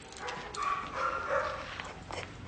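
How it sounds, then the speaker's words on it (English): A dog whimpers and gives soft, short barks indoors at a fairly low level, several brief yelps and whines spread through a couple of seconds. "You have a dog."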